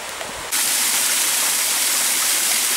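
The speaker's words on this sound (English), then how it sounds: "We're still at that little waterfall here." A small waterfall on a nature walk, heard up close as a steady, loud broadband rush of falling water that starts abruptly and continues unbroken, with no talk.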